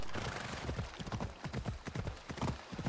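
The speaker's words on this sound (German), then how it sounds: "Kann so schnell reiten, wie ich will." Hooves gallop in quick, rhythmic clip-clop beats as a horse is ridden fast in the video game Assassin's Creed Odyssey, steady and moderately close throughout.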